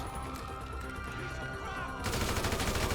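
Video game gunfire in a Los Santos setting, a rapid dense burst of shots erupting loudly in the final second over a busy game soundscape.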